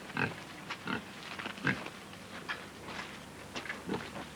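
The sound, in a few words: pigs being fed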